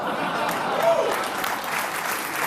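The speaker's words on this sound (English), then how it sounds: "It's like they're all clapping" Audience applause and clapping from a studio crowd, a dense, steady wash of many hands at fairly close range, holding at an even level throughout.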